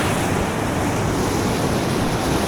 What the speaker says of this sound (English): Water gushing out of here.